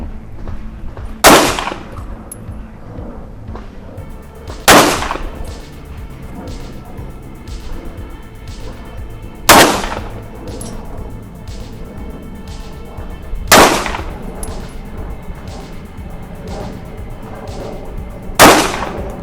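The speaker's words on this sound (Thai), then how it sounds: "พร้อมแล้วเริ่มยิง" Five loud, evenly spaced shots from a Kimber EVO SP compact carry pistol at a shooting range, each a sharp crack with a brief ringing tail, spaced about three to four seconds apart over a low background hum.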